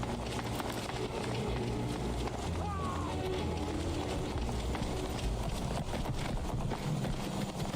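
Horse hooves drum in a rapid galloping clip-clop in the video game Skyrim, steady and fairly loud over wind noise and background game sound.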